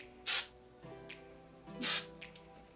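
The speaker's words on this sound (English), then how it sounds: "So now we spray again." Hairspray sprayed onto a ponytail: two short, hissing aerosol bursts about a second and a half apart, close and crisp, with soft handling noises between them in a quiet room.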